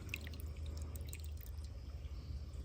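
Water drips steadily into a container from a small solar-powered fountain, soft scattered plinks over a low constant hum.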